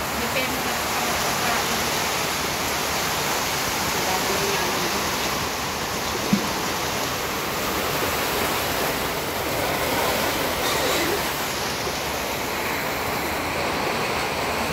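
Continuous loud rushing of sea waves during a typhoon, a dense wash of surf noise that barely varies, with faint voices buried underneath.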